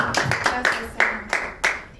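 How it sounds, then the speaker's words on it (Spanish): A church congregation claps in a steady rhythm of sharp, separate beats, roughly three per second, over a short stretch at moderate volume. "Bríndenle un aplauso a Dios"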